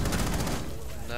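Rapid gunfire in the tactical shooter Rainbow Six Siege, a dense loud burst of shots filling the first half second and then tailing into a rumbling decay with faint game noise.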